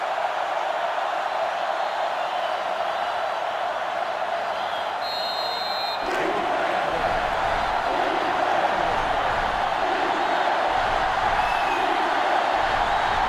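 Stadium crowd in an NCAA Football 2005 college game between Texas and Michigan, a steady, dense roar of distant cheering that holds at an even level throughout, with a brief shift partway through.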